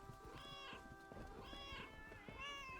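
A cat in the video game Lake meows three times at an even pace, clear and mid-loud over a soft background of game ambience, with no talking.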